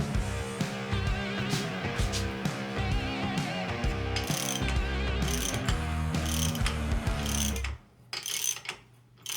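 Close by, a ratchet clicks rapidly and repeatedly as it snugs up nuts on an engine flywheel, the bursts slowing toward the end into a few separate strokes.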